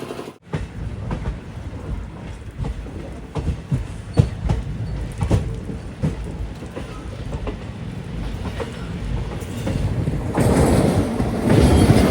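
A train on the Kollam to Madurai line, the Chennai Egmore Express, rumbling steadily with repeated clickety-clack wheel beats over rail joints, the noise swelling louder toward the end.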